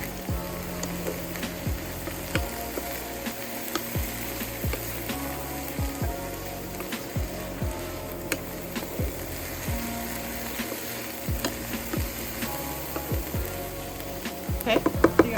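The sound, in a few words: onions and vegetables frying in a pan for an omelette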